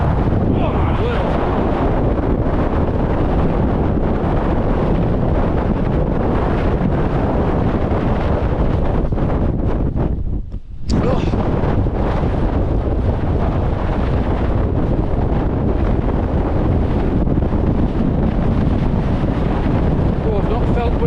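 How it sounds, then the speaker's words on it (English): Strong gusting wind roars continuously across the microphone on the exposed summit of Skiddaw in the Northern Fells, loud and buffeting throughout with a single brief lull midway. "Oh, I've not felt wind that strong since we got pushed off Ben Nevis."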